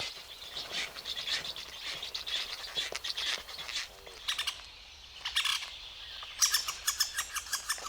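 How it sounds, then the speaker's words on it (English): Black stork chicks call from their nest in a Polish forest, producing quiet, repeated chirping and squeaky calls in short bursts, fairly close and soft against a calm background, with no voices. "black storks clatter very quietly, but have a larger repertoire of other calls and quiet songs"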